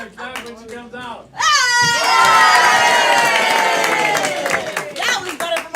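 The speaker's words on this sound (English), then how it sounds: "once again, the crowd goes wild" A comedy club audience at a live stand-up show erupts into loud cheering, whoops and sustained clapping that swells suddenly and holds for several seconds before tapering, with a few voices chattering faintly before it begins.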